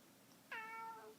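A single clear cat meow rises and trails off, close and fairly loud against a quiet background, with no speech.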